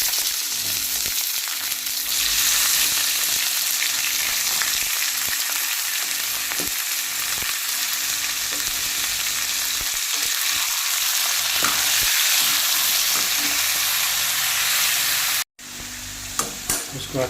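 Chicken pieces frying in a pan with browned onions and red chili for chicken masala, a loud continuous sizzle with stirring scrapes and crackles, briefly cut near the end before resuming.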